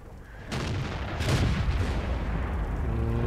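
Tank cannon fire in World of Tanks during a T21 light tank match, with broad booming blasts at about half a second and one and a half seconds followed by sustained rumbling battle noise and engine drone.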